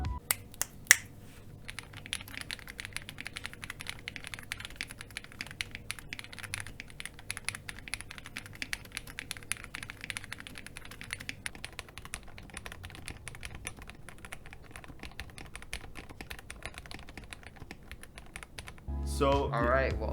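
Typing on a custom-built mechanical computer keyboard fitted with a microcontroller, a dense, steady patter of close, crisp keystrokes running for most of the span, ending in a louder burst of noise.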